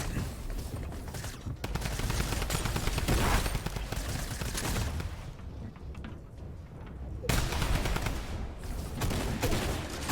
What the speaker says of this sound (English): I decided to pump him with the shotgun